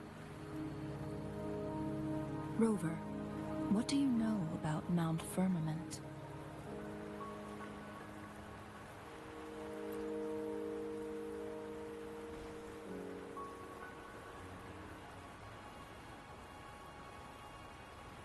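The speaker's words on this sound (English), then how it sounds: "the rain won't last much longer" Steady rain falls in a video game, a soft continuous hiss running beneath a voice speaking and game music throughout.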